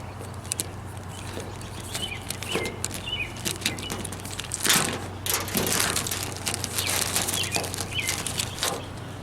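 Plastic packaging crinkles and rustles as a Jeep LED light bar wiring harness is unwrapped, close and irregular, with bursts of crackling handling noise over a low steady hum.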